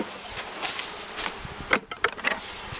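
Honeybees buzz as they are moved into fresh hives, a steady close swarm hum with a few sharper knocks and rustles near the end.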